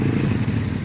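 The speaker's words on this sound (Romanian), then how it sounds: "Uite, pleacă motoarele." Motorcycles pull away nearby with a low, steady engine rumble and some clatter, heard briefly from a passing car ride.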